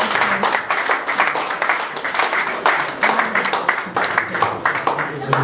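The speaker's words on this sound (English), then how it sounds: "Let's keep applauding him." Crowd applause fills a hall at a Nigerian Society of Engineers gathering hosted by the Apapa branch, steady dense clapping sustained throughout with voices mixed in.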